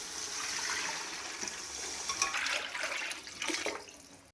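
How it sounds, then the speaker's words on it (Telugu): Water poured from a glass into a cooking pot for potato and pea pulao, a continuous gushing splash lasting a few seconds and ending abruptly, close and fairly loud. "ఇక్కడ వాటర్ యాడ్ చేసుకున్నాం కదండి."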